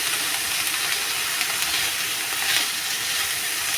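Onions and dried red chillies frying in a pan make a continuous, even sizzle and hiss at close range, with no other sounds over it.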